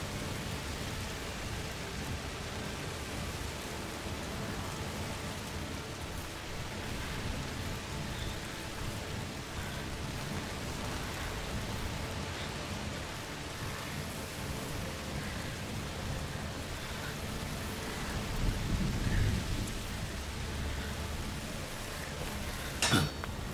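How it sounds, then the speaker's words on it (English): Steady rain pours down with low rumbles of thunder rolling underneath, and a heavier crack of thunder near the end, in the video game A Plague Tale: Requiem. "Bloody rain."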